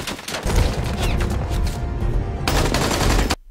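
A gunfire shootout from an Indian action film: dense bursts of rapid automatic shots and booms, loud and close, running almost continuously before cutting off abruptly at the end.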